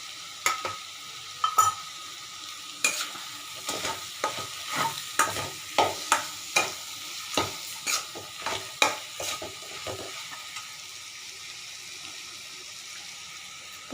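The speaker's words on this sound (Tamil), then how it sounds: "இந்த ஸ்பைசஸ் எல்லாம் நல்லா ஆயிலே போட்டு நல்லா ஃப்ரை பண்ணால் தான் அது கலர்ஃபுல்லாக இருக்கும்" Spices frying in oil for brinjal kurma, a low sizzle under a regular run of scraping ladle strokes, about a dozen close rhythmic scrapes that fade out, leaving soft hissing, with no talk.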